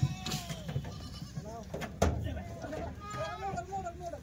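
Kathiawari goats bleat in short wavering calls as they are unloaded from a truck, with a busy outdoor background and voices mixed in.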